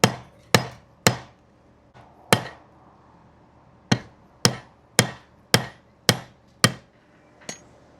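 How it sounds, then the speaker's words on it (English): A blacksmith cuts forged iron over a chisel with a hammer, each blow a sharp ringing metallic strike, about eleven in all, some in quick runs and some after pauses, close and loud with no talk. "I can't find my hardy tool, so we're just going to cut it off on a chisel."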